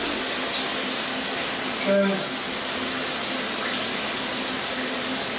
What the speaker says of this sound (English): turns your shower on.